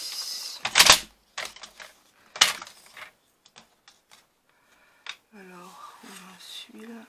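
Gummed kraft paper tape is cut on a tape dispenser with two sharp, loud snips, followed by quieter handling taps, and a voice speaks briefly near the end.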